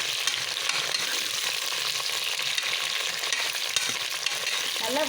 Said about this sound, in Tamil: அதனால் முள்ளங்கி நல்லா வதக்கிடுங்க.